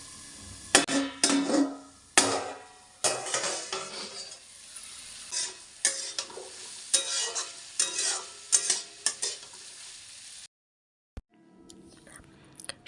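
Vegetables stir-frying in a pan after salt is added for fried rice, loud sizzling bursts with rhythmic scraping and tossing strokes, then a brief silence and a softer return.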